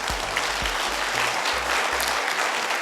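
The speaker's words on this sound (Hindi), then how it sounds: "खड़े होकर तालियां दीप्ति सर के लिए" Loud, continuous applause from a large audience at a sales career seminar, the crowd urged to rise for a standing ovation, clapping densely throughout over a low pulsing musical beat.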